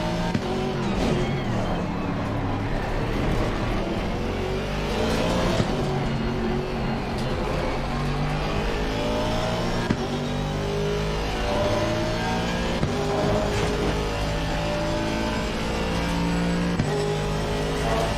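GT3 race car engines roar and rev in Assetto Corsa Competizione at Paul Ricard, a steady dense pack of cars accelerating and shifting close by, loud and continuous with faint voices underneath.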